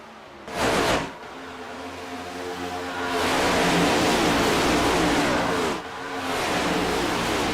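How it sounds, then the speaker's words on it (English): Stock car engines roar in the iRacing sim at Atlanta's EchoPark track, a loud sustained multi-car drone that swells and dips as the pack rushes past, with a brief surge near the start. "listen to some of these loud engines start roaring"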